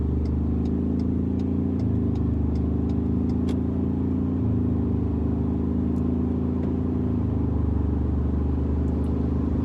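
A Ford Ranger Raptor with a 10-speed automatic, in third gear, accelerates to merge onto a highway, giving a steady, loud engine drone with road rumble inside the cab and little change in pitch.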